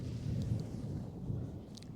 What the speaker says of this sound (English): Got a little bit of thunder going on outside right now.